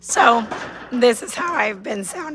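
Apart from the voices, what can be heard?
No distinct noise like a dog, phone or traffic.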